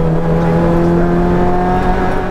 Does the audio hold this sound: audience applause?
no